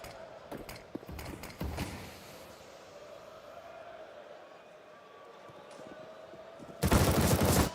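Bursts of rifle spray in Counter-Strike during a PGL Major match, rapid cracking volleys early on, then a quieter stretch before a dense loud burst of automatic fire at the end.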